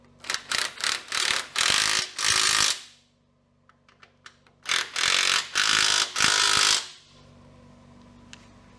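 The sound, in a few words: tightening nuts on Hilux sway bar bracket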